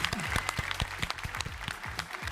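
Applause from a crowd at a live game showcase event, a steady dense patter of clapping with a few stronger individual claps, continuous through the moment.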